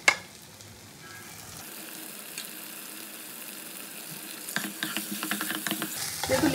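Mutton liver, fried potatoes and spices sizzle steadily in a pan, and stirring starts after a loud initial clatter. Quicker scraping and clinking of the spoon builds toward the end.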